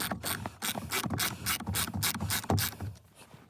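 An M12 ratchet loosens the steering wheel bolt on a Skoda Kodiaq, giving a rapid, steady run of close, loud ratcheting clicks that continues for the whole stretch with no voices.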